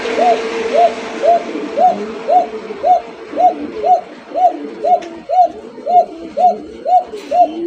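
Fancy racer pigeons coo steadily in a regular series of about a dozen rounded, repeated calls, fairly close and loud, with faint background noise and no talking.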